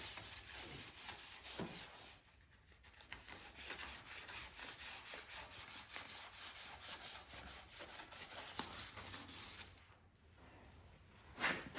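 Abrasive paper rubbing flaky rust off a Honda Goldwing motorcycle stator, a steady rapid back-and-forth scraping close up that runs continuously with two brief pauses.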